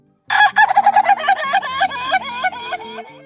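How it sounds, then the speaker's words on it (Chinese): Chickens on a farm pond hillside, including crested Polish hens, crow and cluck loudly and close by, a busy overlapping run of calls after a brief silence. "除了鸭子，昆桑还饲养了鸡。"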